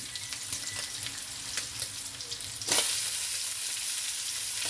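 Shrimp sizzle and fry in a pan with pork belly for Filipino pancit. A steady crackling hiss is heard, and it swells louder midway as more goes into the hot oil. The frying is close and no one speaks.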